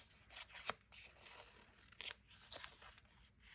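Scissors snip through paper while trimming pieces for a Hobonichi Weeks planner, giving a few soft, quiet cuts and crisp paper rustles in an uneven rhythm, close by with no talking.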